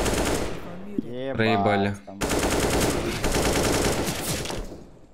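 Rapid bursts of automatic gunfire from a game rattle on for several seconds, with someone speaking briefly over the shooting.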